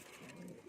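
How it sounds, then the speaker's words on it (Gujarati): Pigeons shut inside an enclosure coo softly, giving a low, throaty murmur that is faint and brief. "કબૂતર પુરાઈ ગયા છે"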